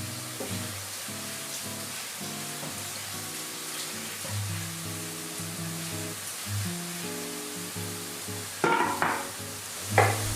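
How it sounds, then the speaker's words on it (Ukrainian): Steady sizzling of vegetables frying in a pan, with faint scraping and a couple of louder stirring clatters near the end. "Поки обсмажуються овочі"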